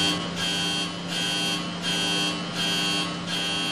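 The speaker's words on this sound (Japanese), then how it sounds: "客室高度警報音が鳴ったと推定している" An aircraft cabin altitude warning alarm buzzes in repeated pulses, roughly one per second, steady and loud over a constant background hum, during sudden cabin depressurization on Japan Air Lines Flight 123.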